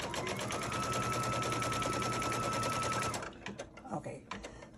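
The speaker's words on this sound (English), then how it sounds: "I'm gonna put my foot down and stitch the next line." A sewing machine stitches a line across a pieced fabric pillow block, a fast, even mechanical chatter for about three seconds before stopping, followed by quieter handling noises and a few soft knocks.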